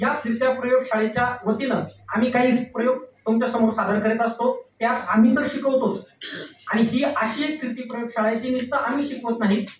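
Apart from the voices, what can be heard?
No everyday noise stands out behind the speech.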